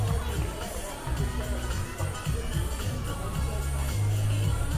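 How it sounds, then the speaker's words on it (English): A crowd cheers for a cyclist at a bike race in Vernon, a continuous outdoor babble of voices with loud calls rising over it. "Let's cheer him on."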